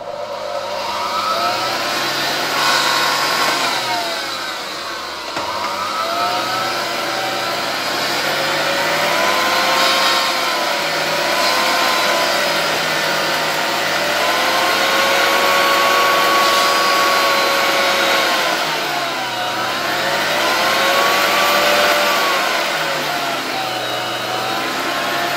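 A 1978 Zelmer type 96 vacuum cleaner with a type 84 motor runs loudly and close, its motor whine rising and falling in pitch as it works, with no talking over it.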